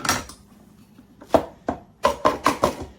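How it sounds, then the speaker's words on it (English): A knife chops onions on a cutting board: a few scattered cuts, then a quick run of four sharp, close knocks near the end, with no talking. "and then I'm going to be chopping up some more."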